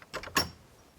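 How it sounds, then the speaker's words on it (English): The wooden door of a bird-watching hide at a wetland nature reserve is opened: a couple of short close rattling clicks followed by one louder latch clunk, then quiet. "Let's open the door."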